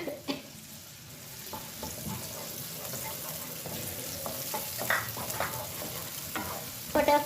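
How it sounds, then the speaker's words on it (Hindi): Chopped onion frying in hot oil for a chicken spaghetti dish, a steady soft sizzle with scattered clicks of stirring and a few sharper pops toward the end, close and without talk. "ऑयल में ऐड करेंगे अनियन"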